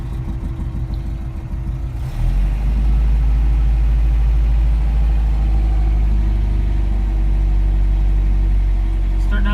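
A cold 1981 Toyota car engine with its timing slightly off starts up, then settles into a loud, close, steady idle while warming up, running unevenly as though ready to stall.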